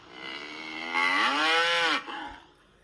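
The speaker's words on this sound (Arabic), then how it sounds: "طلع لنا بقرة" A single cow gives a long, loud, drawn-out moo lasting about a second, rising and then falling in pitch, close by against a quiet background.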